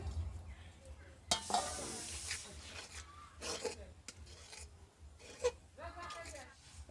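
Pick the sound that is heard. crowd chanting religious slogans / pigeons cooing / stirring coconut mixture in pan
stirring coconut mixture in pan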